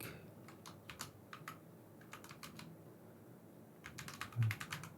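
Keys clatter on a computer keyboard in quick, soft bursts of typing separated by short pauses, close and quiet with no talk.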